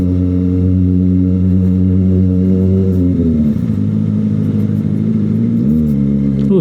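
A modified Yamaha Mio Sporty motor scooter passes close by on a narrow village lane, its loud engine drone shifting pitch as it goes by, with no talk.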